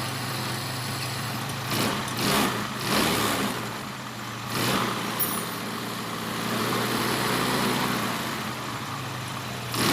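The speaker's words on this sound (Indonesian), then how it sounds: "Saya mau coba tes hidupkan tanpa menggunakan tali gas." A motorcycle engine idles steadily after its vacuum carburetor was swapped for a Kharisma carburetor, a continuous close mechanical hum with a few brief rises in level and no talk over it.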